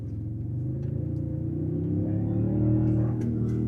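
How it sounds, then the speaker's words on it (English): A 2025 Toyota Tundra Capstone pickup's twin-turbo V6 hybrid engine accelerates hard from inside the cab, a deep steady rumble building gradually louder over several seconds with no talk. "That is the sound of a twin turbo V6 producing 470 horsepower and"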